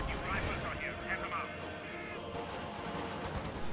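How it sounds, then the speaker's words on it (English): Heavy mortar fire in a war strategy video game, booming artillery-like blasts and gunfire crackle under continuous battle noise, with voices talking over the action. "Oh, that heavy mortar shot."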